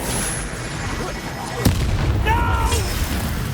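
Spell effects from Hogwarts Legacy: a sharp magical burst strikes midway through a steady rumbling wash of game ambience, followed by a brief rising shimmer and low thuds.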